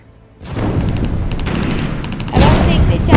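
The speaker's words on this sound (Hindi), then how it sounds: "अब हम देखते चारों तरफ बम धमाके फूट रहे हैं।" Explosions and gunfire from a battle scene at Harfleur, a dense continuous barrage of shots and blasts that starts abruptly and swells louder toward the end, with no clear talk over it.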